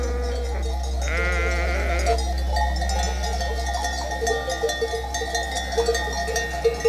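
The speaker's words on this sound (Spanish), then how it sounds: "Los carneros, entre berridos, a las ovejas le pegan un último y apresurado ramoneo a la encina." Sheep and rams browse under holm oaks, with a clear drawn-out bleat rising above steady clanking cowbells and more scattered bleats and bell clinks close by.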